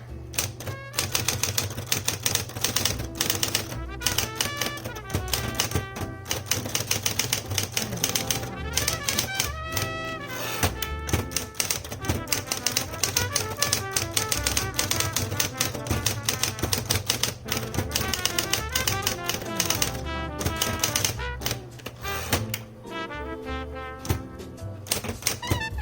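Smith Corona Coronet electric typewriter being typed on, a dense rapid stream of crisp mechanical keystrikes with occasional heavier clunks, steady and close throughout.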